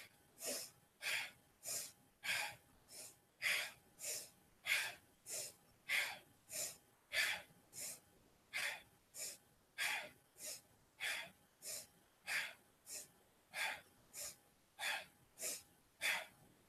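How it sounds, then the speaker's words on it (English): Rhythmic, forceful breathing during a Kundalini yoga exercise, about two dozen quick, evenly spaced breaths through the nose over a quiet background, close and steady. "Let the sound of your breath be the music and the rhythm that you move to."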